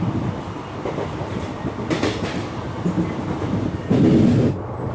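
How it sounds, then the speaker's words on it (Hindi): A train rolls through Khedi Salwa railway station near Jodhpur, heard from on board as a loud, steady rumble with rhythmic clattering of wheels over rail joints, swelling briefly near the end. "इस वक्त हमारी ट्रेन गुजर रही है खेड़ी सालवा रेलवे स्टेशन से"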